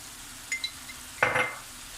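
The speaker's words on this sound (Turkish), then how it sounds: "Şimdi iyice tavuğumu kavurdum böyle. 2-3 dakika boyunca." Chicken sautéing in a pan with spices gives a brief sizzle and a stir or two of a utensil, with light clinks, close and fairly quiet.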